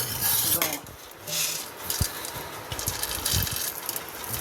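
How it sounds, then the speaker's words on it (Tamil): Peanuts poured into a pan while making lemon rice, a scattered clatter of small hard pieces striking metal with several sharp ticks and rattles over a few seconds, close and fairly quiet, with no voice. "இப்போ நம்ம வேர்க்கடலையை கொட்டுவோம்"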